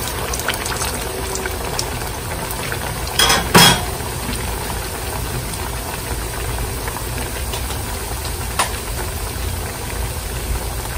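Potato and tuna patties fry in hot oil with a constant close crackling sizzle, broken by a couple of brief clatters from a utensil.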